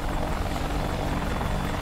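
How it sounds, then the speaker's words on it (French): Continuous whirring AH-64D Apache helicopter rotor drone in the DCS World flight simulator as the blades spin up, steady and fairly loud, with a brief high click near the end. "on a des pales qui tournent beaucoup plus vite"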